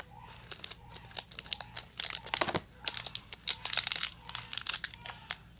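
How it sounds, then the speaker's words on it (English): A plastic toy package is cut open, giving a close series of crinkling, crackling plastic sounds and short tearing snips in an irregular rhythm, with no talking. "I'll cut it open."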